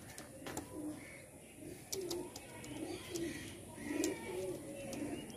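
High-quality Andhra pigeons at a sale cooing in soft, repeated low coos at intervals, fairly close, with occasional chirps and light background noise.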